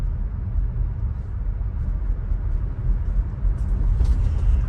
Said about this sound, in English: the car having no issues whatsoever driving in this snowy condition